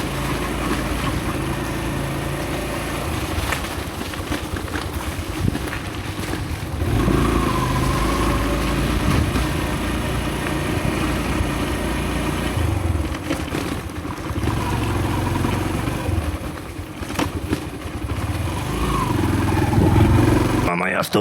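A motorcycle engine hums and revs steadily while riding over rough Dominican Republic roads, with someone talking over the engine noise.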